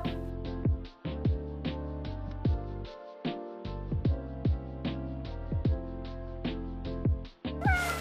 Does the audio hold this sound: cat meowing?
yes